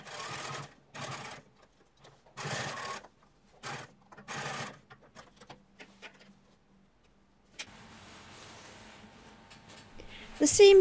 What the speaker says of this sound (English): To finish the outside seam, we top stitch to just below the pockets.